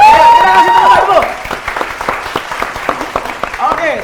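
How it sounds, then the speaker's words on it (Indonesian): A studio quiz show audience breaks into applause, a dense burst of clapping that thins into scattered claps. A voice is briefly heard over the opening of the applause. "Kita kasih tepuk tangan dulu."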